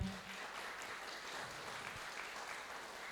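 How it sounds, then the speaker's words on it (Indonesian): Applause from an audience at an Indonesian leadership lecture on Hindu character and conflict management, a steady, moderately distant wash of many hands clapping that continues evenly throughout. "Boleh tepuk tangannya."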